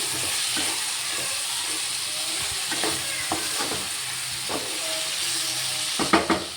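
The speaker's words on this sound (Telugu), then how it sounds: "ఇలా తిప్పుకొని చక్కగా మొత్తం కలిసేలాగా తిప్పుకొని" Ivy gourd (dondakaya) curry sizzles steadily in a frying pan while a spatula stirs it, giving intermittent scraping clicks over the hiss, with a cluster of sharper scrapes near the end; close and alone, no talking.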